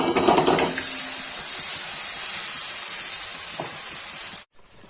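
A paste of onion, ginger, garlic, black pepper, clove and cinnamon hits hot oil with cumin for malai cauliflower, giving a loud, steady sizzling hiss that runs throughout and cuts off abruptly near the end.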